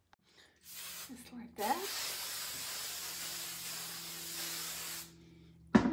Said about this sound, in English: Let's take it and put a little hairspray on it.